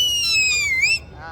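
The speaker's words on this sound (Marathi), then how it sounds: "आता याची शिट्टी आहे का दाखव." A child's toy whistle is blown at a crowded Ganpati festival outing in Parel, giving a shrill, wavering tone that slides down and back up for about a second before cutting off.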